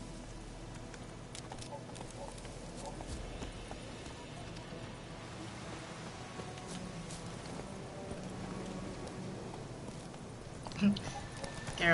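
Horse hooves clip-clop steadily in The Witcher video game as the horse is ridden through woods, a continuous rhythmic patter beneath game music and ambience, with a person talking over it.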